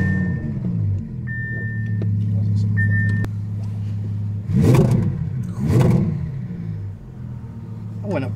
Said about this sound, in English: So you heard that startup. You heard that little rev.